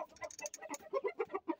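Rooster crowing and clucking nearby in a short, rhythmic run of calls, loud and alone with no one speaking.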